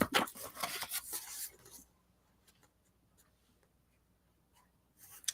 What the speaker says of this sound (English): I'll trim a little off the top here